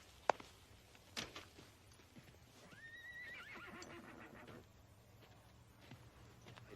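A young, green horse gives a clear, rising whinny that breaks into a wavering neigh, with faint hoof clops and a sharp knock before it, all at a moderate distance.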